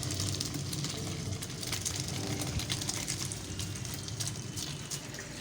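Water draining from a pot of boiled moringa flowers, a steady, fairly soft stream of pouring, splashing liquid that runs continuously without talk.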